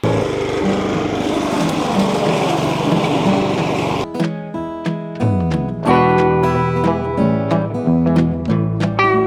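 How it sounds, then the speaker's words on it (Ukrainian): A loud, droning small engine of a Dnipro-M lawn mower cutting a grass path runs steadily for several seconds, then cuts off abruptly and plucked musical notes follow. "Так давайте зараз тут стежку покошу, а потім підемо на велику траву."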